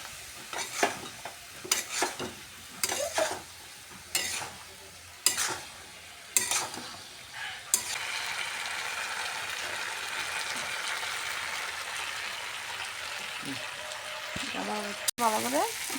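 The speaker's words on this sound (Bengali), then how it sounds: "সামান্য একটু জল দিয়ে আর একটু কষিয়ে নেব সয়াবিনের ভিতরে মশলা ঢুকে দেওয়ার জন্য।" Soybeans with spices sauté in a pan with a little water. A spatula stirs and scrapes in sharp bursts at first, then a steady, loud sizzle and frying hiss takes over.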